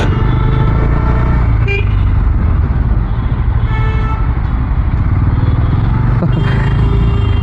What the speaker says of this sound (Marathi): एवढी मोठी डॉमिनार एवढी हेवी गाडी